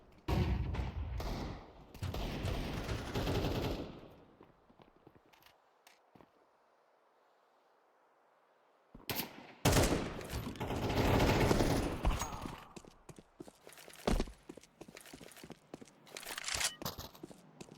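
Dense bursts of automatic gunfire from a first-person shooter video game crackle in two long stretches separated by a quiet gap of several seconds, with scattered single shots toward the end.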